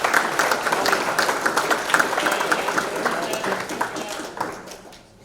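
An audience at a Queensland boxing event claps as guests walk up on stage, a dense, fairly loud burst of applause that thins and fades out toward the end.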